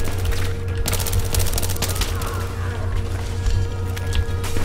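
Rapid automatic gunfire in Battlefield 3, a dense fusillade of overlapping shots and bursts layered over a steady low rumble, with occasional distant booms throughout.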